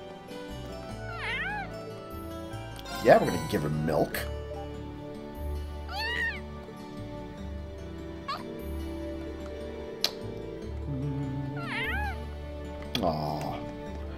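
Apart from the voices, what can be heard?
cat meowing in video game Trails of Cold Steel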